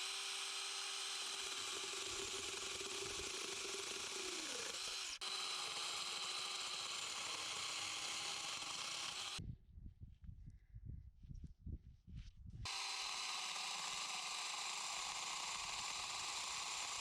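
A chainsaw cuts through a big olive tree branch in a Portuguese garden, with a loud, steady engine drone that breaks off for a few seconds into rough, uneven sputtering before the full roar returns.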